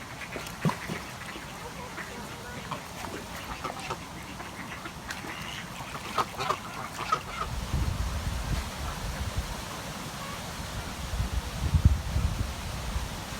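Very large ducks at a castle pond in the grounds of Leeds Castle, making scattered honking quacks close by, mixed with rustling and a low outdoor rumble. Voices can be heard faintly in the background.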